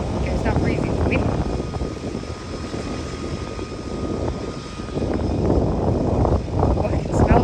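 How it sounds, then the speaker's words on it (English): An Otter floatplane's propeller engine roars as it takes off in a windy harbour, the loud drone swelling and easing amid gusting wind while people talk nearby. "That airplane will get lift off somewhat quick because it's breezy."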